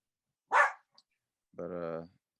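A pet dog barks indoors, one sharp bark followed after a pause by a longer, tonal whining bark, close and clear against silence.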